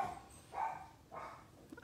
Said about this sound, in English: Obviously the dogs are here.